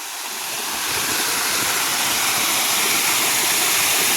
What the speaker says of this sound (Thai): น้ำตกตาด